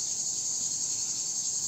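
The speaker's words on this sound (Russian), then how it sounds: "сегодня прям цикады стараются" Cicadas drone on a calm, windless morning in Alushta by the sea, a dense, continuous high-pitched buzzing chorus that holds steady throughout with no voices.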